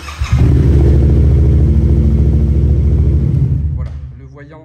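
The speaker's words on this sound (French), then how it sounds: "quand vous démarrez la moto, ici, regarde bien, je vais démarrer la moto." A Yamaha MT-07 motorcycle engine fires up and settles into a loud, steady idle rumble for a few seconds, then cuts off, followed by brief talking.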